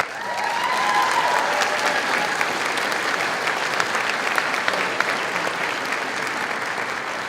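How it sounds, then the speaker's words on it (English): Loud sustained applause fills a hall at a nursing pinning ceremony, many hands clapping steadily throughout with a few crowd voices, fading slightly toward the end. "So please give yourselves a round of applause."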